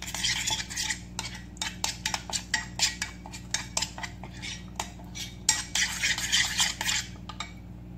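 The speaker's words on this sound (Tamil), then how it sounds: "எல்லாத்தையும் நல்லா கலந்து விட்டுக்கோங்க" Chicken is mixed with salt and garam masala in a metal vessel, with repeated close clinks and scrapes of a spoon against the sides in quick uneven bursts over a low background hum.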